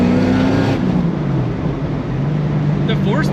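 A Datsun 240Z with a four-speed, straight-cut-gear gearbox pulls hard, its engine note rising and then falling, loud and close from inside the car. An excited voice talks briefly over it near the end.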